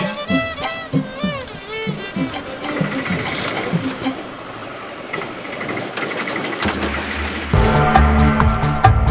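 A household sewing machine runs with a steady mechanical chatter and hum, heard close and loud beneath background voices and a domestic scene.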